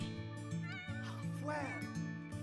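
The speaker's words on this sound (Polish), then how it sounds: "Obok naturalnie, gdzie kot wyje?" A cat in The Sims 4 video game howls and meows in long, wavering wails, fairly loud and continuous over steady game music, with a person talking briefly alongside.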